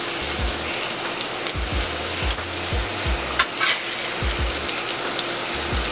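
Burger patties topped with cheese and bacon sizzle and fry steadily on a flat steel griddle, a close, continuous crackle broken by a few sharper pops, with no voices.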